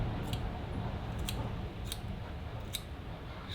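Scissors trimming the fibers of a crab fly body at the tying bench, a few crisp close snips spaced about half a second apart over a steady background hiss.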